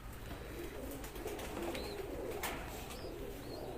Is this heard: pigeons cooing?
yes